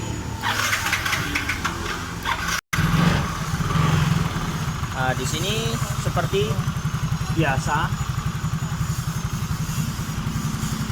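A Yamaha Mio J fuel-injected motorcycle engine is cranked and starts, then settles into a steady, close idle while someone talks over it.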